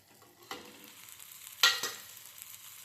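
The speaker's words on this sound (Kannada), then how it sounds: "ಸೊ ಇದು ಫ್ರೈ ಆಗಲಿ." Food sizzles softly in a pan for bread pizza with paneer, a low steady frying hiss broken by a few brief stirring scrapes, close and without talk.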